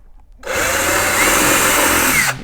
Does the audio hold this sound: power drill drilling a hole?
yes